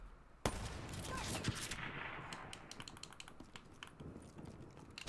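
Gunfire from an SVG 100 sniper rifle with an ELO sight in Call of Duty: Black Ops 3 Gun Game: a sharp, loud shot rings out, then a second heavy crack follows amid rapid clicking game effects.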